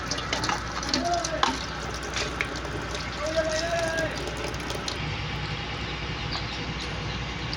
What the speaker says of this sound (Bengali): মাংসটা এবার আমরা ধুয়ে নিচ্ছি ভালো করে ধুয়ে নিচ্ছি